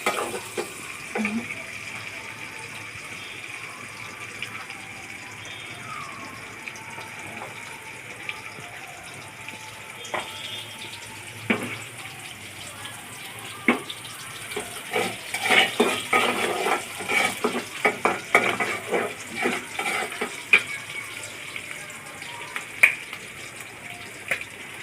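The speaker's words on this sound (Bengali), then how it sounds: "পেঁয়াজটা হালকা একটু ভাজা ভাজা করে নেব।" Onion fries lightly in oil in a pan, a continuous soft sizzle broken by frequent stirring clatter and metallic scrapes that grow busier toward the end.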